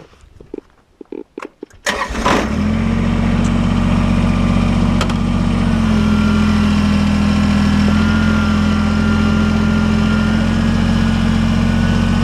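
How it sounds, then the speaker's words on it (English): Tractor engine cranking with a few quick clicks, then catching and settling into a loud, steady idle rumble that runs on close by with no talking. "So I'm going to fire the tractor up and move and go over from a different angle."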